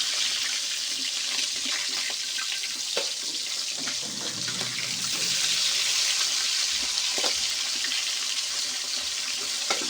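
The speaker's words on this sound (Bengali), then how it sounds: "এপিট ওপিট করে লাল লাল করে ভেজে নেব" Pieces of rohu fish, including belly cuts, fry in hot oil in a pan while being turned, giving a steady bright sizzle with occasional louder crackles and spatters over about ten seconds, no voices.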